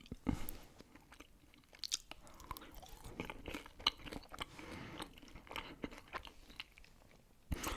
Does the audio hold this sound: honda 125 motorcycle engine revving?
no